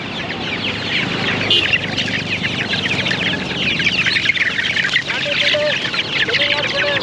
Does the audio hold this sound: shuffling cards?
no